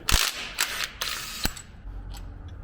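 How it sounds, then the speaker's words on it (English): A ratchet works an upper timing cover bolt loose on a Toyota 22RE engine, giving a handful of sharp metallic clicks and clacks spaced irregularly, close and moderately loud with no talk. "So you're gonna have to remove that bolt."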